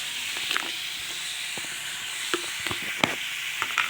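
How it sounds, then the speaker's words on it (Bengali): Curry being sautéed and reduced in a home kitchen pan, with a steady, soft sizzle and faint hiss running throughout, punctuated by occasional light clicks and stirring scrapes, moderately close. "তারপরে দেখুন আমি কষিয়ে নিচ্ছি।"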